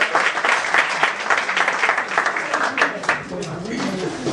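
An audience applauds a performer at a stage event. The clapping is dense and continuous, with a few sharper claps standing out throughout.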